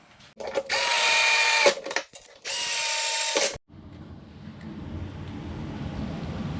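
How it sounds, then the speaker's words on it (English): Power drill driving screws into a wooden cabinet top: two sustained whirring bursts of about a second each, each ending in a short stop, then quiet shop hiss and low rumble. "go down through here and make some marks, and then we'll screw that top"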